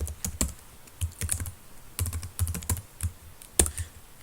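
Bursts of rapid keystrokes on a computer keyboard as Python code is typed, clicking in quick clusters separated by brief pauses, close and clear with no talking.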